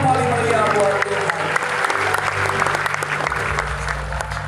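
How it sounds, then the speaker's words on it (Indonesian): Clapping from a church congregation at an Easter service, dense and sustained throughout, with steady low organ or keyboard tones beneath it. "Tepuk tangan yang paling meriah buat Tuhan"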